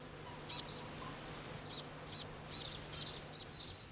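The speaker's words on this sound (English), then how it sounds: "the birds have come back to feed upon them" Native New Zealand birds call while feeding in flowering kamahi and towai trees, giving six short, bright chirps. One comes alone and five follow in a quick, irregular run, fairly close against a quiet background with a faint steady hum.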